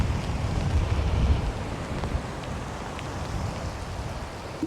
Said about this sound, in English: That's a rain on now.